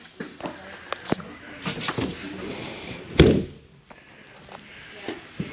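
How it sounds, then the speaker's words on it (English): A single solid thud of a Keystone Lorado 353FL travel trailer's exterior door closing lands midway, loud and close, among lighter clicks and handling sounds before and after. "Close your exterior door."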